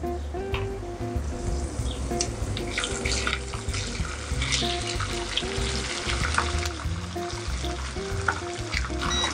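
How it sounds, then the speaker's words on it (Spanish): Garlic and prawns frying in oil in a pan for gambas al ajillo, a steady dense sizzle with running water and kitchen clatter mixed in throughout. "Podéis ver que ya los ajos están confitando, se están empezando a dorar"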